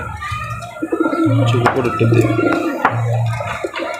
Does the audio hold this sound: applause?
no